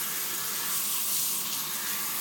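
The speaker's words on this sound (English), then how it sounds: "Look at how horrible my faucet is" Hot water pours from a household faucet in a steady, close hiss, unbroken for a couple of seconds.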